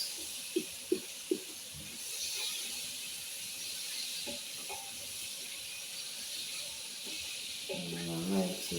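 Onions frying in hot oil with a steady, fairly quiet hiss and sizzle, a few sharp knocks near the start and brief talk near the end.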